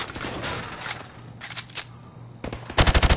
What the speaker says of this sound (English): shoot at the targets while firing from the hip